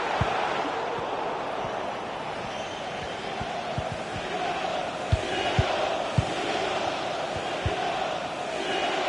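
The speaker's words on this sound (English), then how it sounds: "egged on by the crowd." Stadium crowd in a football video game, a continuous roaring, cheering wash with scattered low thumps, steady and fairly loud throughout.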